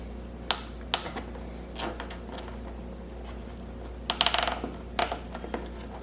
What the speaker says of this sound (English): get my zip tie here, and then zip it and secure it down